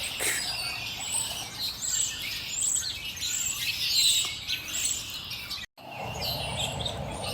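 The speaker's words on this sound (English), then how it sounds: "I guess you can probably hear there's a lot of birds chirping" Many birds chirp and tweet continuously in high, overlapping calls over steady outdoor ambience, recorded on a ZTE Axon 10 Pro phone, with a brief dropout near the end.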